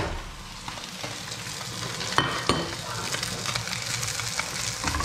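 A fish fillet pan-fries in plenty of hot oil, giving a steady close sizzle with occasional sharp crackles and spatula scrapes.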